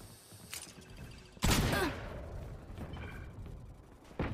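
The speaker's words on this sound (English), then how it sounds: "Oh, I headshot him through the wall." Gunfire in Valorant, including a headshot fired through a wall: a loud sharp shot with a brief ringing tail stands out among fainter scattered pops, with another crack at the very end.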